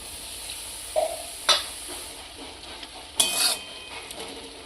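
Spinach cooked with gugli snails sizzles steadily in a pan, with a few soft clinks of a spoon stirring through it.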